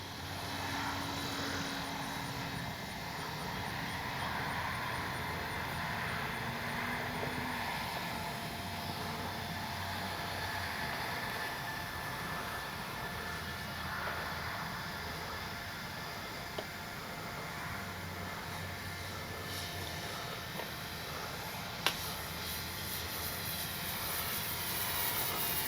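Steady buzzing drone of an RC model F4U Corsair warbird plane with its gear and flaps going up, a constant, moderately distant engine and propeller hum held throughout without breaks.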